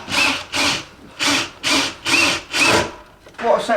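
A hand saw cuts wood with six loud, even back-and-forth strokes and a short pause before a final stroke, close up.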